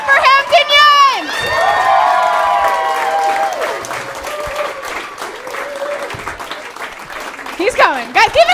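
A comedy club crowd claps and cheers loudly as the headliner is brought on, with high-pitched shrieks and whoops rising over continuous applause, ebbing midway then surging again with more screams at the end.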